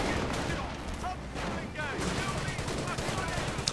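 Mortar fire and explosions in a video game battle, with dense booming gunfire and blasts running continuously behind a voice talking throughout.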